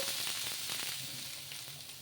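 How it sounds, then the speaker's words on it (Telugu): Ridge gourd and wheat flour dosa batter sizzles steadily on a hot pan, a soft continuous crackle with faint pops, close and quiet, no voices. "ఇక్కడ వచ్చేసి దోశ అయితే వేస్తున్నాను"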